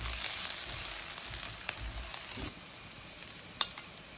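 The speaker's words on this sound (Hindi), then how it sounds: "लहसुन को 2 मिनट के लिए भूनेंगे।" A teaspoon of chopped garlic fries in a pan with a soft, steady sizzle, while a utensil stirs it with occasional light scrapes and taps near the end.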